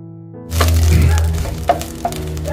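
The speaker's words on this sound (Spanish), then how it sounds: "Vamos a dorar un poquito la cebollita." Onion dropped into hot oil in a pan, sizzling steadily from the moment it lands, with a few sharp crackles and pops over a hum in the background.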